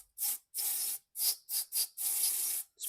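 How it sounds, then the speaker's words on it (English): Six short and long bursts of pressurized electrical parts cleaner spraying close by onto transmission shift solenoids, hissing, separated by brief silent gaps. "Spray it real good in there."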